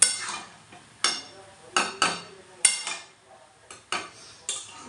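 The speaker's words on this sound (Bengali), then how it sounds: "তো বাঁধাকপিটা এইভাবে মশলাটাকে নিয়ে দিচ্ছি আর ভালো করে কষিয়ে ঢাকা দিয়ে দেবো" Spiced cabbage is stirred in a pan, a spoon striking and scraping the metal in irregular clanks every second or so, close, with quiet rustling between strikes.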